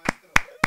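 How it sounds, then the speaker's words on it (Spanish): Three sharp, separate hand claps spaced evenly apart during a Spanish-language podcast studio conversation, close and distinct against a quiet background. "Se merece un aplauso, maestro."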